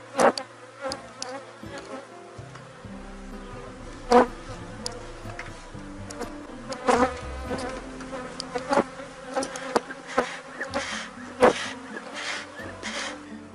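Honey bees buzz around an open hive during an inspection, a close, dense drone with individual bees zipping past the microphone in sharp, louder swells.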